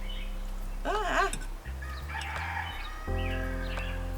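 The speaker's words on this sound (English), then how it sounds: "our friendly neighborhood rooster" A neighborhood rooster crows once, clearly and at moderate distance, over low steady background tones and faint household sounds in a kitchen setting.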